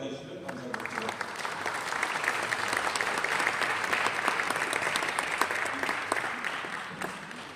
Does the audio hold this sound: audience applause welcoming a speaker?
yes